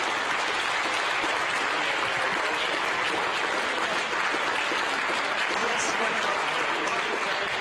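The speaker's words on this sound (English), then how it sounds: "amidst applause here in the Mission Control Center" Loud, steady applause fills Mission Control Center as the James Webb Space Telescope separates from its launch vehicle, with a faint voice murmuring underneath.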